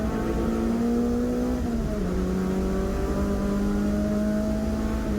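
A Clubmans series racing saloon car on semi-slick tyres holds a steady, loud engine drone on a wet circuit, its pitch dipping and climbing as the car struggles for traction during the final lap.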